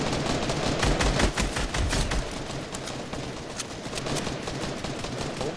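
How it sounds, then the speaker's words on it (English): Rapid gunfire in the Fortnite video game, a dense string of sharp shots and bursts of automatic fire that is loudest early on and then continues a little more faintly. "Don't keep shooting."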